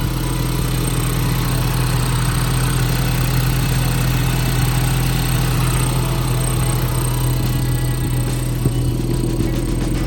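Ford Ecoboost engine swapped into a Datsun 510, idling steadily for the whole stretch with an even, low mechanical hum and faint higher whine, close and loud with no talking.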